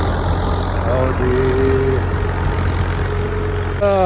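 A tractor engine runs in a farm field with a low, steady rumble nearby, and a voice briefly speaks over it.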